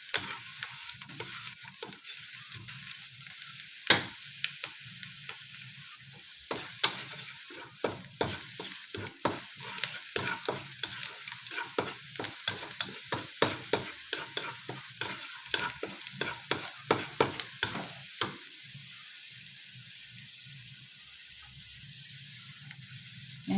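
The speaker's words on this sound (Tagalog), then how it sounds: "Nagba-brown na ang ating sibuyas at bawang." Onion and garlic browning in a frying pan before corned beef goes in, a soft continuous sizzle punctuated by frequent sharp scraping stirs of the spatula, close and with no talk.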